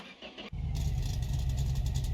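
After a short lull, a car engine in the My Garage game surges into a steady high rev, holding a loud, buzzing drone while the car is driven.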